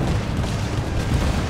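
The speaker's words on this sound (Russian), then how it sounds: "А, стрельба из пушек." Cannon fire in Assassin's Creed 4 Black Flag, heavy continuous booming and rumbling with overlapping blasts, loud and dense throughout, no talk over it.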